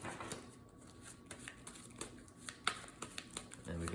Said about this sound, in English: Shuffle up the discard pile.